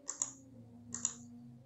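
Two short bursts of computer keyboard typing, a Ctrl B shortcut being pressed, a couple of crisp clicks each, close and fairly quiet over a low steady hum.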